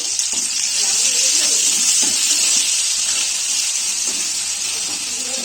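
Capsicum and fried onion sizzle steadily in a kadai, a loud continuous hiss with occasional soft stirring scrapes, no voices.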